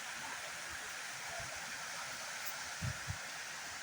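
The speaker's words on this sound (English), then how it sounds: "this water flowing from there in between the rocks, joining, going down here" Water flows between rocks at Uyalla waterfall, a steady, even rushing hiss heard at moderate distance throughout, with a couple of soft low thumps near the end.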